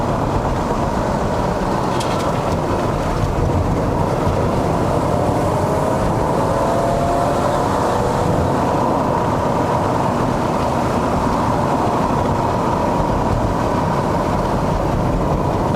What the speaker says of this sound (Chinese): 真的，直列6缸出来的声音。